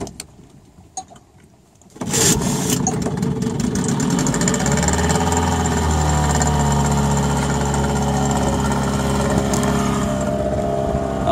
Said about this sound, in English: Let's see if we can get this outboard going.